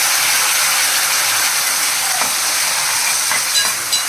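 Ground masala paste tipped into hot oil with fried garlic for varan, hissing and sizzling loudly and steadily, with a few sharper crackles near the end and no talking.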